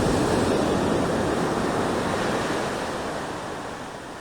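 Ocean surf rolls onto Legon Pari beach, a spot used for surfing, in a steady, loud wash of broken waves with some wind noise, fading slightly toward the end.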